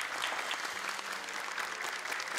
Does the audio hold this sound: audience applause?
yes